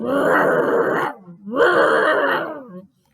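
A voice imitates a loud truck engine growling like a T-Rex in two long, rough, rumbling bursts separated by a brief dip, ending abruptly.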